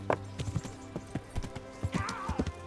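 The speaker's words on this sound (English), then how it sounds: "My horse." Horse hooves clip-clop in the video game Kingdom Come: Deliverance, a close and steady rhythm of about a dozen hoof strikes, with a brief whinny-like tone near the end.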